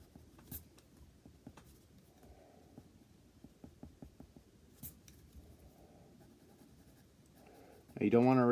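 A pencil renders shading on paper, giving soft, quiet scratching strokes in a loose rhythm with a few faint taps, close up, before a brief louder noise at the end.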